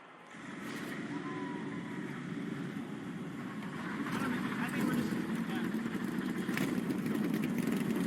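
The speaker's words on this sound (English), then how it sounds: "Drivers, start your engines." Race car engines firing up at Daytona International Speedway, a broad continuous roar that builds slightly in loudness, heard from a distance alongside crowd and announcer ambience.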